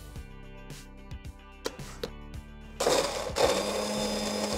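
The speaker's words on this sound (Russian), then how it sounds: "2 зубчика чеснока отправляются в кутер" A food processor chops two garlic cloves, parsley leaves with their stems and a little vegetable oil: a loud, steady whirring starts partway through and runs to the end, following some brief tonal sounds.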